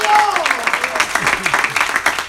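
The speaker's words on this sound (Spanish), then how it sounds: "Fuertes aplausos" Loud applause from a church congregation during an evangelical service, dense clapping mixed with cheering voices and shouts sustained throughout.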